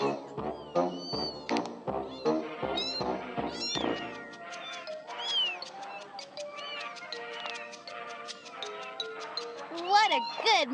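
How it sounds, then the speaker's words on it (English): A cat meows in the Amanda the Adventurer 2 video game, with repeated high, sliding meows and purring calls over about ten seconds, following a stretch of choppy voiced sounds, some louder near the end. "What a good mama cat!"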